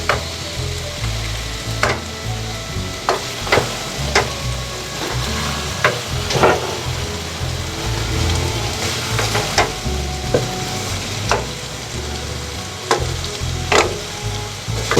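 Tomatoes, ginger and garlic sizzle and fry in a pan for mutton stew, a steady loud crackle with repeated sharp clanks and scrapes of a stirring utensil against the pan, no voices.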